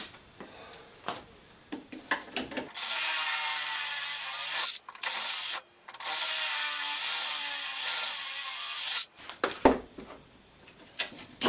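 A DeWalt power drill driving pocket screws into wood whines steadily at high speed in two long runs with a short burst between, followed by brief handling clatter.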